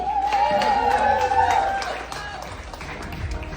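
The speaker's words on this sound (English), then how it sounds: "Again, a great big round of applause for Lori Dew." Applause from a comedy club audience after comedian Lori Dew's set, mixed with a bright musical tone, loud at first and then easing down to a lower, steady wash of crowd noise.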